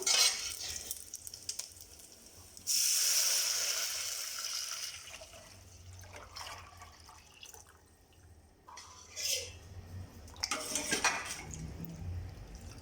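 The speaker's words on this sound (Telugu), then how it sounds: "మనం సెపరేట్ చేసుకున్నటువంటి ఈ ఉలువ చారును ఈ తాలింపులో కలుపుకుందాం" Horse gram soup (ulava charu) is mixed into a hot tempering in a pan, giving a burst of sizzle followed by clinks of a utensil against the pan and soft stirring, with no talking.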